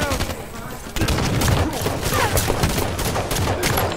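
Rapid bursts of automatic gunfire from Halo 5 multiplayer play loud and close, with repeated sharp shots in quick clusters after a brief lull.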